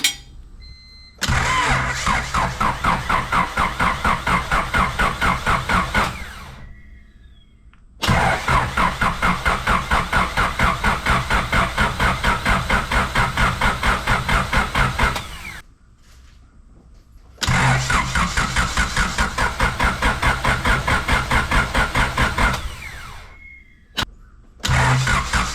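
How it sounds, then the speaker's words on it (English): A Honda Civic engine with a GT35 turbo cranking over on the starter without firing, in three long sustained bursts of rapid rhythmic churning separated by short pauses, loud and close. "then just turn the engine over until you see oil"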